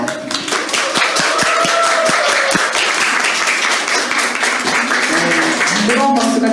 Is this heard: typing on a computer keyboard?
no